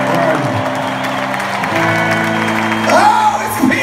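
A concert crowd applauds and cheers for a guest musician joining a band onstage, with sustained clapping, scattered whoops and shouts, and sustained tones and occasional voices over it.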